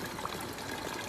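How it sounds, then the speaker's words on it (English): Water steadily runs into a camper van's onboard tank in a small village, a continuous soft trickling pour, even and close, with no voices. "I'm just filling up some water in this my tank so I can have a shower."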